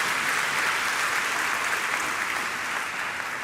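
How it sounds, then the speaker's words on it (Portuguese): Steady, dense applause from a church audience at a Projeto Vida gathering, loud and continuous throughout with no voices on top. "Dá uma salva de palmas aí."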